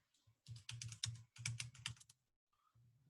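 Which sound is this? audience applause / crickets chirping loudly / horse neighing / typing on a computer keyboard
typing on a computer keyboard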